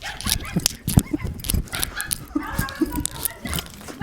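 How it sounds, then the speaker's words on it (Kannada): A dog gives short yips and whimpers in quick bursts at close range, under and between people's voices. "ಅಲ್ಲೊಂದು ನಾಯಿ ಕಾಟ ಕೊಡ್ತೈತಿ"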